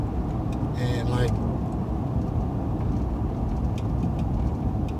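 A 2005 Lincoln Town Car on the road, heard from inside as a steady, loud rumble of road and engine noise throughout, with a brief higher tone early on.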